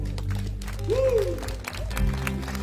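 Applause at a church wedding ceremony: scattered, crackling hand claps from the congregation, with voices and a rising sung or called tone over a steady low hum.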